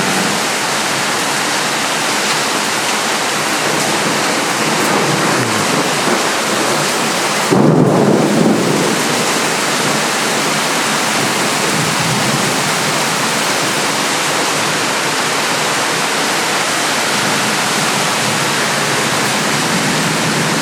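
Heavy rain falls in a steady, dense hiss, broken around the middle by a loud, close crack of thunder that rumbles briefly before the downpour carries on alone.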